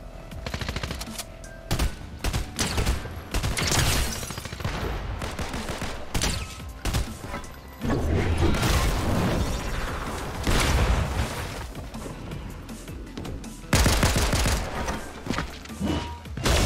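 Gunfire in the Fortnite video game, including pistol shots, comes as dense, loud bursts of rapid shots and thuds that repeat throughout, with no talking.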